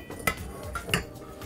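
A whisk clinks against a bowl while eggs and sugar are beaten over a bain-marie for a génoise, two or three quick metallic taps, close and clear.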